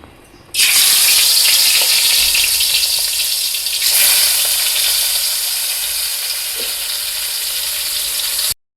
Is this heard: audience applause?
no